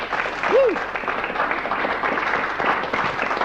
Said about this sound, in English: A little round of applause maybe for that?